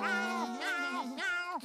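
A voice imitates a cat for a cartoon snail in SpongeBob SquarePants, giving three drawn-out meows in a row, clear and close, each rising then falling in pitch.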